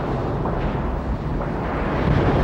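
A torpedo striking a submarine in the 1990 film The Hunt for Red October, heard as a loud, sustained rumbling boom with heavy low-end wash that holds through the whole moment.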